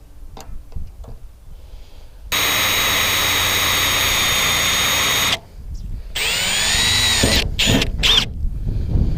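A power drill whines steadily for a few seconds, pauses, then runs again in shorter revving bursts, loud and close, drilling a pilot hole in the hood of a 1993 Ford Mustang.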